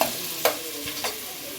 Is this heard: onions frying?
yes